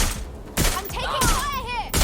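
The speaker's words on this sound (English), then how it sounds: "I'm taking fire here." Gunfire in Watch Dogs: Legion cracks in sharp bursts, loud and close, with a whizzing, ringing tail between shots.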